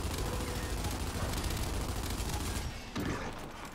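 Rattling gunfire in a Gears of War match: a continuous, dense barrage of overlapping shots at fairly low volume, thinning out near the end.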